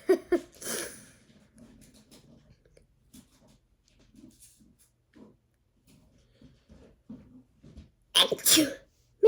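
A sharp sneeze near the start, then quiet breathing and faint rustling, followed by another loud sneeze burst close by near the end.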